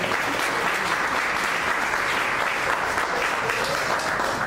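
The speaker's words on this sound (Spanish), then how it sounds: "Hágale una ofrenda de palmas a Dios" A church congregation claps hands as an offering to God, a dense, continuous roar of clapping from many people at full, even loudness for the whole stretch.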